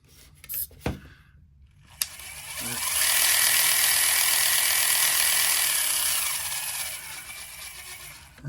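The planetary transmission of an RC crawler spins at full throttle in first gear, rising into a steady, bright mechanical whir that holds for several seconds after a few clicks and taps.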